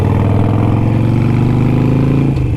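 Motorcycle engine with an aftermarket exhaust, one of a Harley Sportster, Kawasaki Ninja or Suzuki GS, rumbling loud and close; a deep, steady throbbing note holds, then the revs drop near the end, with no voices.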